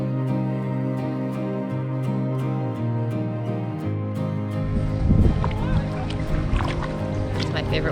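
A tandem kayak is paddled on water in Mexico, with soft paddle strokes and sloshing under steady music, the water sounds growing more noticeable toward the end.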